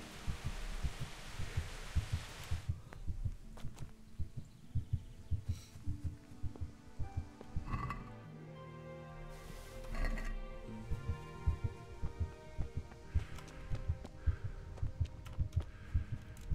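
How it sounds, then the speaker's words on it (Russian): A heartbeat in the video game Kingdom Come: Deliverance, thudding in steady low double beats, loud and close, with game sounds and a musical tone in the middle. "Это что у меня опять сердце бьется"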